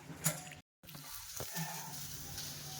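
Okra frying in hot oil in a kadai, a steady close sizzle and crackle with a brief silent gap partway through, no talking.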